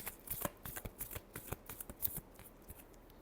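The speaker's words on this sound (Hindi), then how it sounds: "last shuffle" Tarot cards are shuffled by hand in quick, crisp riffling bursts, a close and fairly quiet flurry of papery slaps and flutters with no voice over it.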